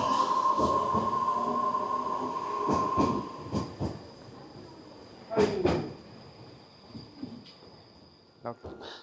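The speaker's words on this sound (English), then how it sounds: "This train is going to go to the depot." The last train of the night in Japan rumbles and clanks on departure toward the depot at a moderate distance, with scattered knocks, a squeal and a sustained whine, and voices heard faintly.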